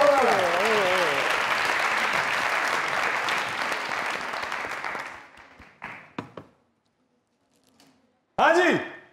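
An audience bursts into loud sustained applause at a televised comedy show, the dense clapping running about five seconds before fading, then followed by brief bits of talk.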